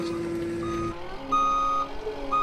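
A huge forklift stuck in mud reverses, its backup alarm giving steady repeated beeps over a low engine drone, with a second higher beep pattern joining in, fairly close and without talk.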